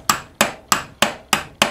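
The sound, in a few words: hammering a bearing's outer ring into its housing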